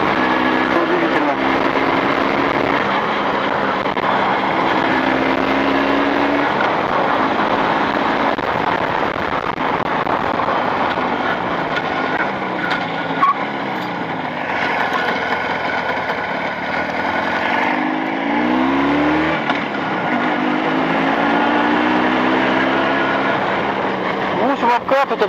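An engine with Chinese cylinders runs steadily in third gear during break-in in +40 degree heat, a continuous close drone with slight rises in pitch, while someone talks over it.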